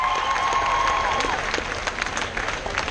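Dense, steady crowd applause with some cheering fills the room at a hairy chest contest, loud from start to finish and briefly pierced by a thin whistle early on.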